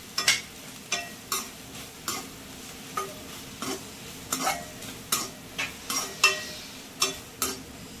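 Street-style spicy noodles with vinegar are stirred in a sizzling pan, a steady rhythm of about two utensil scrapes per second over a soft frying hiss, close and clear.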